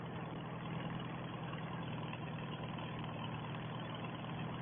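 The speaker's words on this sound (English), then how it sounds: "Does sound nice, this tractor." A 1950s Farmall 300 tractor engine idles continuously, a deep even rumble with no change in pitch and no voices.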